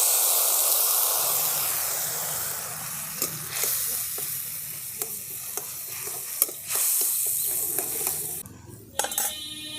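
Ground spice paste and water hit hot oil already fried with black cumin, for a vegetarian ridge gourd curry with mustard and poppy seed, giving a loud hiss that fades into soft bubbling, broken by a few clinks of stirring.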